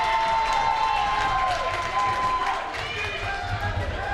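Crowd noise at a high school basketball holiday tournament game, a steady roar of cheering voices filling the gym with squeaky, tonal bursts on top, continuous and loud throughout.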